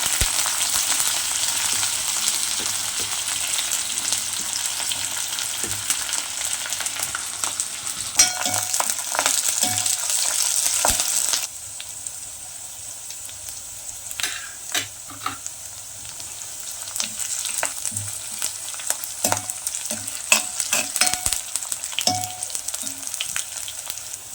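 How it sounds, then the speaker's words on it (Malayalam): Chopped ginger and green chillies frying in a hot pan for a village-style Kerala lemon curry, a steady close sizzle with bursts of crackling and occasional stirring, no talk. "ഇനി അരിഞ്ഞു വെച്ച ഇഞ്ചി പച്ചമുളക് ഇതെല്ലാം കൂടി ഇട്ട് കൊടുക്കുന്നു"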